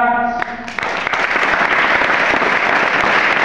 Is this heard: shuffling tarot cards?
no